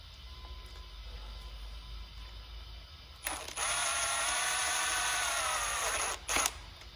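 Impact gun snugging a bolt on a Ford 3.5 EcoBoost engine during timing chain work, a close, loud whirring burst lasting about three seconds followed by a brief second rattle, after quiet shop background.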